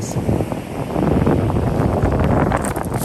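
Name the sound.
wind blowing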